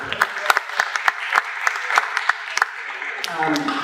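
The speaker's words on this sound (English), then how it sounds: "Let's please have a nice round of applause for Amy" A conference audience applauds a keynote speaker, with sharp, uneven individual claps from a modest crowd close by, fading as a voice begins speaking near the end.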